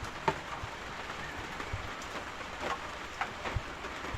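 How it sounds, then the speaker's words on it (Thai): Rain falling on a corrugated metal roof, a steady patter with scattered louder drips and taps, moderately quiet and without speech. "เพราะว่าฝนตก"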